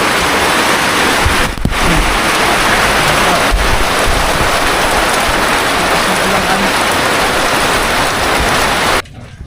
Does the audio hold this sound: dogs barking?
no